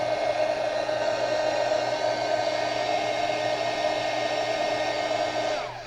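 An embossing heat tool blows hot air from underneath to melt embossing powder, a steady loud whooshing blower hum running without a break and tapering slightly at the end.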